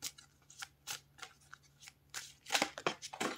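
Oracle cards being shuffled by hand, a quick run of crisp riffling and slapping bursts that grow busier and louder toward the end, heard up close with no talking.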